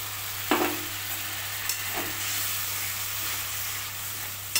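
Whisked sour yogurt goes into spice masala frying in a pan for a fish curry, a soft hiss with a few brief clatters and a low steady hum underneath, no speech.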